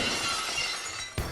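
Glass shatters with a loud, bright crash that opens a wrestling entrance theme, followed by a sudden fresh burst of breaking noise near the end.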